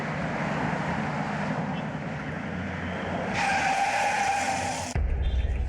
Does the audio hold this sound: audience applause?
no